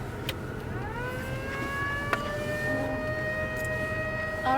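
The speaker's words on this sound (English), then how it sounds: "I don't think I could not notice my siren. Going off for 10 minutes?" A siren on a cattle feeder truck wails steadily, its rising tone settling into a sustained, fairly loud drone with no talking over it.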